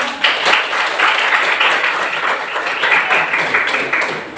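Classroom applause from students after a group presentation, a few seconds of brisk clapping from a modest group, with individual claps audible in the wash and no talking over it.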